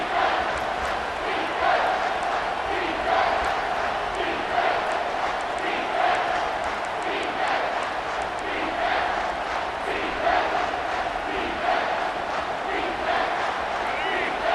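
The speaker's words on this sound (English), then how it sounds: "3rd down, and this crowd is bringing down the house." A packed stadium crowd in the CFB 25 football video game roars steadily on third down, a dense, continuous wall of cheering with surging chants that never lets up.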